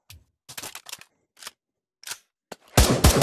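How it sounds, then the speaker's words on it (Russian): Scattered sharp clicks and pops at irregular intervals in the VR game Pavlov VR, then a sudden loud rapid burst of gunfire at the end. "Одиночная и неодиночная стрельба."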